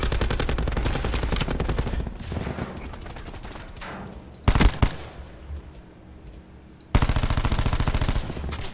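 Rapid automatic gunfire in the shooter game Call of Duty Black Ops 4 comes in sustained bursts, broken by a few single sharp shots and a quieter stretch, then a final long loud burst.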